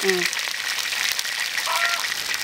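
Grass carp pieces pan-fry in hot oil, giving a steady, close, even sizzle throughout, with a faint voice briefly at the start.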